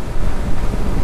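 Strong crosswind roars and buffets against the microphone while riding a Honda Pop 110i motorcycle, a loud, steady low rush with no voices.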